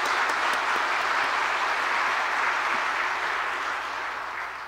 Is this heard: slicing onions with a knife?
no